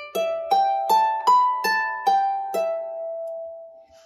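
Manx harp plucked in a short phrase of seven clear notes at an even pace, each ringing and decaying, alone in a quiet room.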